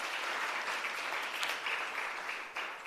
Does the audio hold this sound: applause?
yes